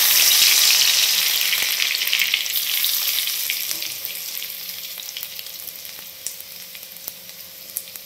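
Cumin seeds and crushed garlic sizzle loudly in hot oil for a tempering, a bright crackling hiss that slowly settles and fades, dotted with small pops and stirring clicks, with no talking.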